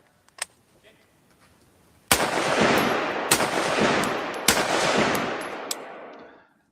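Shots from a gun fitted with a muzzle brake, fired outdoors in low light: a few faint clicks, then a sharp, loud report with a long rolling echo, and two more close shots cracking over the fading boom.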